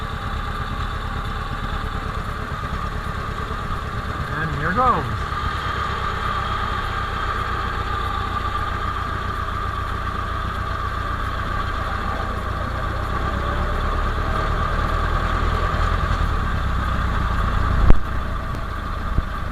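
A Ford Model T engine idles steadily and loudly for the whole stretch, with brief rattles and a bump near the end; someone says a few words early on.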